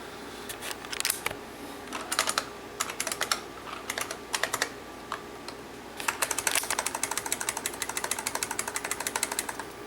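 Typing on a restored IBM Model M keyboard from December 1989, whose buckling-spring keys clack loudly in irregular bursts, then a fast run of evenly spaced keystrokes near the end.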